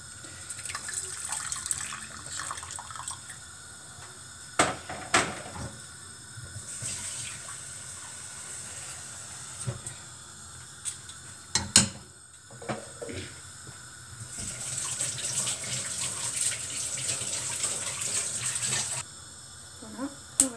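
Tap water runs steadily into a sink while eggs are washed before cooking, with occasional clinks and knocks against the basin as the stream swells and eases.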